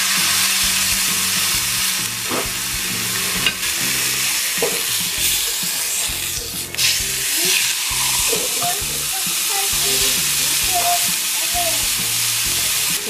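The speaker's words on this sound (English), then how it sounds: "We're going to sear our chuck roast in a pan." A large chuck roast sears in a pan with a loud, steady sizzle and crackle that holds for the full stretch, with faint music underneath and occasional sharper spits.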